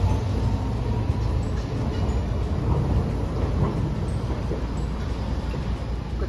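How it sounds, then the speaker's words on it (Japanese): A Hiroshima Electric Railway streetcar passes at Hiroshima Station, a steady loud rumble of wheels and rails that holds close and unbroken throughout. "電車が通過します。"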